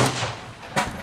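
A .38 Colt New Police revolver fires a 158-grain handload of 2.2 grains Red Dot: a sharp report right at the start with a ringing tail, then a second loud crack near the end of the second.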